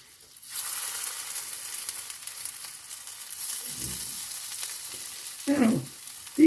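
A spoonful of wet lentil burger mix fries in a hot pan with a steady, moderate sizzle. A few soft knocks and scrapes from a spoon sound close by, and there is no talking.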